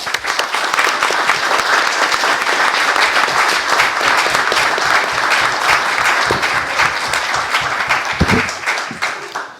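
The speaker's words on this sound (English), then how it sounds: "Let's give them a round of applause." A town candidate forum audience gives sustained, loud applause, a dense and even wash of many hands clapping that continues throughout with little variation.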